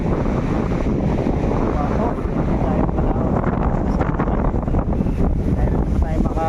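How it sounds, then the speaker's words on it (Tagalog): Strong northeast monsoon wind roars continuously into the microphone on a coast where boats are being painted, a dense buffeting rush with faint background voices and distant activity underneath. "Malakas ang amihan."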